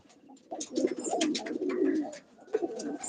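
Domestic pigeons cooing nearby, a couple of soft throaty bursts of coos with a short pause between them.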